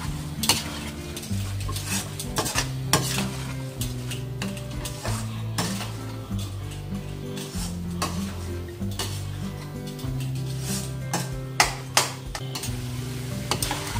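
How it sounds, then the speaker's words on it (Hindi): Carrot halwa (gajar ka halwa) is stirred in a pan with a ladle as its milk cooks down, making repeated close scrapes and clinks of metal on the pan over a soft, steady sizzle. "तब तक आप इसको चलाते रहें"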